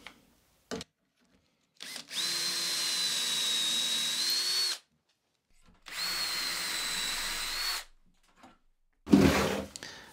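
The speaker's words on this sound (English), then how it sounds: "With the holes drilled into the cross bit" A power drill bores dowel holes into a wooden cross piece in a woodworking shop, two sustained whining runs of a couple of seconds each, separated by brief clicks and quiet.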